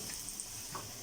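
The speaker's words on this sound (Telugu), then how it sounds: "ముందుగా ముకుడులో నెయ్యి వేసుకొని సొరకాయని ఫ్రై చేసుకుందామండి" Grated bottle gourd frying in ghee gives a soft, even sizzle with faint stirring, quiet and brief with no voices.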